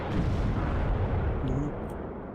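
Mortar artillery fire in the WARNO wargame gives a loud, dense, rumbling barrage of booms that fades slightly near the end, with faint game chatter in the background.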